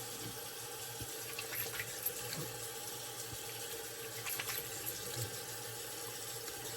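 Tap water runs steadily into a bathroom sink while a face is rinsed after a shave with Noble Otter Hamam soap, a constant close hiss with a few small splashes and clinks.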